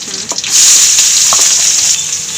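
Onion and garlic sizzle in a pan, cooking for a Kannada drumstick-leaf bassaru. The frying starts with a couple of light stirring taps, then builds into a steady, loud hiss that holds to the end with no talking.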